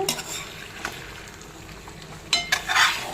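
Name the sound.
stirring Andhra chicken fry with egg in a pan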